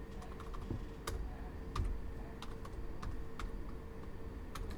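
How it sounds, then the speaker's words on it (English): Numbers are typed on a computer keyboard, with quick, irregular key clicks and occasional firmer taps over a low steady room hum. "you can see how I'm just typing in the numerical values"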